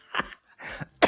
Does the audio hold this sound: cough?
yes